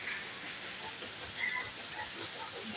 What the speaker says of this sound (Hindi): भाई ठंडी ठंडी बारिश होगी जी